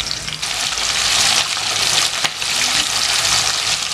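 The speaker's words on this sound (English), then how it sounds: "So you need to fry it a little bit" Loud, steady sizzling of liver frying in a hot pan, a dense crackling hiss that continues throughout with brief dips and a small clink.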